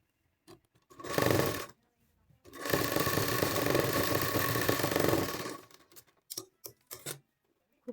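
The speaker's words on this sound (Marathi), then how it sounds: "दाब शिलाई मारून घ्यायची" An electric sewing machine stitching a prince cut blouse runs in two bursts, a short one and a longer steady whirring run, with a clattering needle rhythm and scattered clicks and fabric handling before and after.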